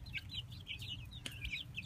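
Soft, high chirping and peeping from small chicks repeats throughout, over a low rumbling background, with no talking.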